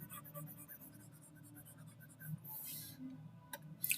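Writing on a board during a computer science lecture on transformers, faint scratchy strokes in short bursts, with a few soft clicks near the end.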